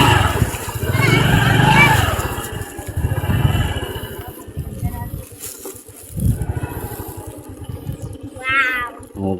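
A motorcycle engine on a muddy rural provincial road revs and rumbles loudly up close, swelling strongly in the first seconds, then easing and surging again in uneven bursts, with a brief high whine near the end.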